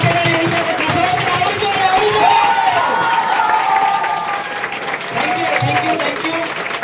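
Loud, sustained clapping from a trainee audience at an indoor training session, rising to a dense peak midway and then thinning slightly, with voices mixed in beneath.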